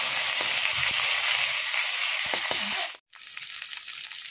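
Spices crackle and splutter in hot mustard oil, a loud, dense frying hiss with scattered pops that briefly drops out to silence before the sizzle resumes, heard up close without speech.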